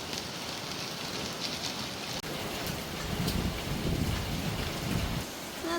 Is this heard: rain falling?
yes